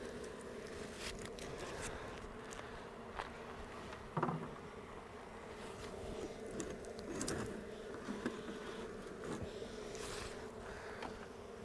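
Honey bees buzzing inside a heavy hive during an after-winter check: a faint, steady droning hum with scattered individual buzzes passing close, plus light rustling, no speech.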